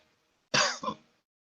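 A person imitates a small cough, a single short two-part throat-clearing hack, close and clear against silence.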